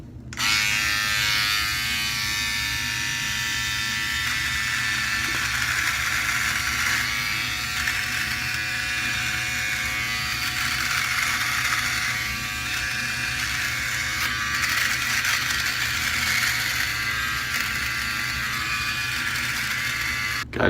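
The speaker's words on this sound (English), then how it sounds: "Shaving against the grain." Philips OneBlade electric razor cutting three-to-four-day stubble against the grain, a steady close buzzing drone with a faint scratchy texture that runs unbroken and loud throughout, with no talking.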